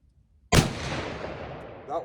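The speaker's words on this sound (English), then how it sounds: "I'm gonna fire 1 more shot to verify that." A single loud rifle shot from a Winchester Model 670 chambered in 300 Win. Mag., fired while sighting in for hunting, with a sharp crack and a long rolling echo trailing off over about a second and a half.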